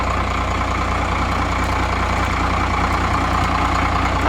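An old, long-sitting Cummins diesel engine in a rotting plow truck runs at a loud, steady idle close by, with a low rumbling throb and a faint ticking rattle throughout.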